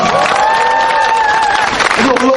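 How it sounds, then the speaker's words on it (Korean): Crowd applause welcoming members of the Korea Public Federation of the Korean Federation of Trade Unions, led by chairman Kim Young-geon, at an outdoor election rally by a train station, with cheering and a voice shouting through the clapping. "환영의 박수 부탁드립니다"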